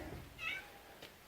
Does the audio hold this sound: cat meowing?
yes